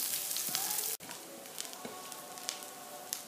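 Onions with cinnamon and chillies frying in oil for green gram upma, a soft steady sizzle with light popping crackles after a brief cut, heard faintly without voices.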